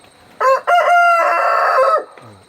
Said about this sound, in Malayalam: വിളിക്കുന്ന നമ്മുടെ ചുവന്ന തനി നാടൻ എനിക്ക് തോന്നുന്നത് ഇത് പഴയ കാലത്തെ പൂവനാണ്